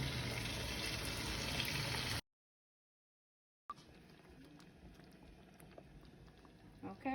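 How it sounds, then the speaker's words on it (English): A pot of dinner simmers on low with soft, continuous bubbling close by, and the sound cuts out completely for a moment before the gentle simmer returns. "now you just let everything simmer on low"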